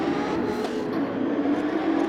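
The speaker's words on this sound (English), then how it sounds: "Revs are up, and away we go." Race cars rev and accelerate away at the start of a Gran Turismo 7 race at Mount Panorama, a dense, loud engine roar that is steady and continuous throughout.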